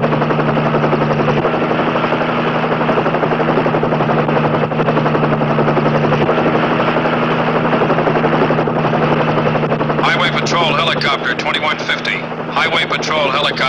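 Helicopter flying, a loud steady rotor drone with a low pulsing hum running throughout while a voice speaks over it, ending with a burst of radio chatter.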